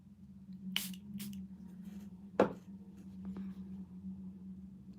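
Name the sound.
spraying the makeup brush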